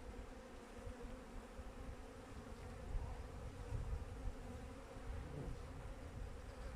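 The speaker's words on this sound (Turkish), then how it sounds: "Duvarlarda da var biraz arı." Honey bees hum in a steady, faint drone at an opened hive being strengthened, the buzz continuous and unbroken, with no voices.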